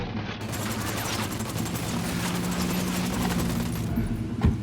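Rapid suppressed gunfire during a firefight in Ghost Recon Wildlands, a dense stream of muffled shots over a low rumbling game soundscape, ending with a sharper thump.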